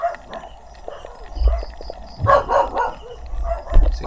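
Dogs barking at night by the shore in the Philippines, a few loud barks and yips in two clusters, fairly close, with low rumbling handling noise in between.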